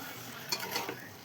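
A spoon stirs broad beans frying in oil in a pan for a goruchikkudu curry, giving a soft sizzle with a few quiet scraping strokes, close and low in level.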